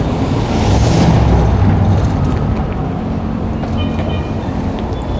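A Toronto subway train rumbles loudly nearby, a heavy low roar that swells early on and then settles into a steady rolling drone, with faint squeaks on top.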